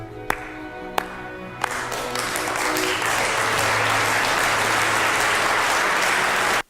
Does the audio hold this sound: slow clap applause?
yes